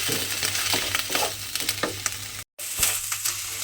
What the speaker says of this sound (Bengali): এবারে এই মশলাটা আমাকে একটু নেড়ে চেড়ে ভাজা ভাজা মতো করে নিতে হবে